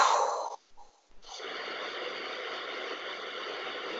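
A long breath out during a sophrology relaxation exercise while the shoulders are shrugged, a loud airy exhale that stops, followed by a short pause and then a steadier, softer breathy hiss.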